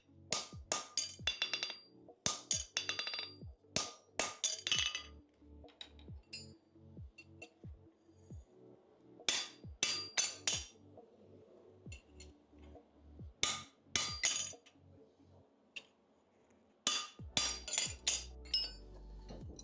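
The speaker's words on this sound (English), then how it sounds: "And then you go in with your finishing stamp." Steel finishing stamp driven into a plain stamped front horseshoe with a hammer, giving sharp metallic clinks in quick bursts of several strikes separated by short pauses, close and loud.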